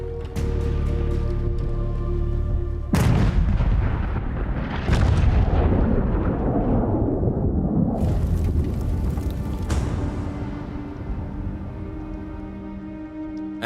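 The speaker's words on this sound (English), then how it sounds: "They're hammered with a near-constant artillery bombardment." Heavy WWII artillery bombardment of the Brest-Litovsk fortress, with deep booms and bursts rolling into one another in a loud, nearly continuous barrage, with no talk.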